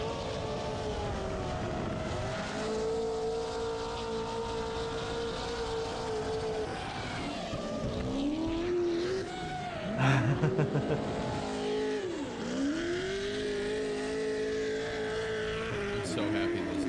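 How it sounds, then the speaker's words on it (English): Loud car engines roar steadily through a chase, pitch rising and sweeping as they rev and shift, with a brief harsh burst midway and faint talk underneath. "I love the motor noise that you get when you're chasing these loud-ass cars"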